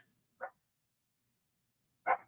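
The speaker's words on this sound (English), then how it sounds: "that dog just barks and barks and barks sometimes" Two short dog barks, the second louder, separated by a pause of over a second in otherwise quiet surroundings.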